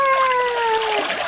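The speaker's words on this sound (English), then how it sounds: "Kick your feet in the water." A young child kicks their feet in pool water, making a brief, close splash under a voice.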